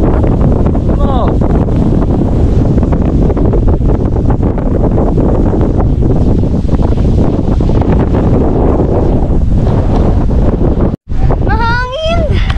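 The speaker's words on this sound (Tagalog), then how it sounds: "Grabe ang hangin." Strong wind roars steadily and loudly across the microphone on an exposed coast at Dingalan, Aurora, with people speaking and calling out over the constant gusting.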